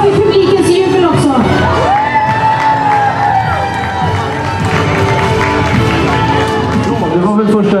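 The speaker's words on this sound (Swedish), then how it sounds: "Och så har vi publikens jubel också" Crowd cheering and whooping along the course at the Kretsloppet Borås 2016 running race, a steady loud roar of many voices with a person talking over it throughout.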